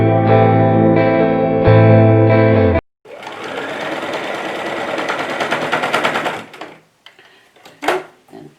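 Sewing machine stitching an apron seam, a steady loud mechanical whir in two bursts, the first about three seconds, the second longer and grittier before slowing to a stop, followed by a few faint clicks and handling sounds.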